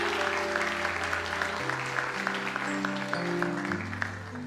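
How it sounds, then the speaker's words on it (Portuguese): A church congregation claps together over sustained, shifting keyboard chords, a steady patter of applause running the whole time without speech. "Vamos aplaudir ao Senhor."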